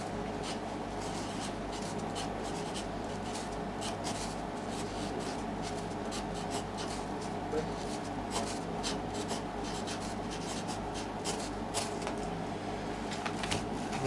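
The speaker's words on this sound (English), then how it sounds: "I write the bottom shape on here," Pen or marker scratching steadily onto a surfboard blank to mark its bottom shape and dimensions in a shaping workshop, a close, continuous rubbing texture with short repeated strokes over a low hum.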